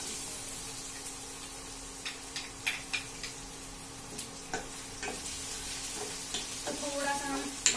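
Garlic and ginger sauté in a pan with a light, steady sizzle, broken by scattered ticks and scraping stirs that grow busier toward the end, heard close with no speech.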